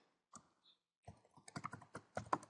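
A password is typed on a computer keyboard: a few scattered key clicks, then a faster irregular run of close, crisp keystrokes with no voices.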